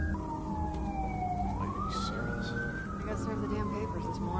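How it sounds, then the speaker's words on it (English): A distant emergency siren outdoors in New York, a wailing tone rising and falling over a low traffic rumble, moderately faint and continuous. "The siren is coming from New York, not the game."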